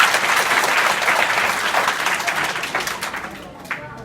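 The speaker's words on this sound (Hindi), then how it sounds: "इतने सारे बच्चे, ताली बजाओ।" Schoolchildren at a middle school in Kolisa, Azamgarh, burst into dense, lively group clapping that is loud and close, then tapers off with a few last scattered claps.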